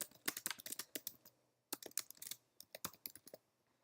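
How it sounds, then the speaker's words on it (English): Typing on a computer keyboard while writing HTML link code: close, crisp key clicks in quick uneven bursts, with a short pause midway, alone and without talk. "And we're going to type"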